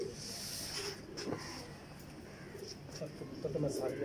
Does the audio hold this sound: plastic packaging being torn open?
no